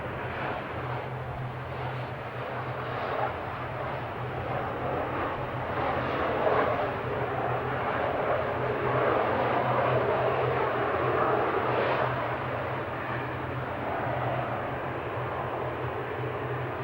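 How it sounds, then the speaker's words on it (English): A jet airliner lands on runway 27 at Amsterdam airport, a steady broad engine roar that swells slightly mid-pass and holds without talk, with a low constant hum beneath. "We have another landing here at 27."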